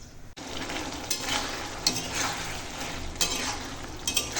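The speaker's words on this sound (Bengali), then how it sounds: "সব মশলা দিয়ে দিয়েছি এখন মিষ্টি কুমড়োটাকে রান্না করে নেব" Sweet pumpkin simmers with spices in a pan, giving a steady close sizzle broken by a few sharp scrapes of a spoon stirring against the metal, with no voices.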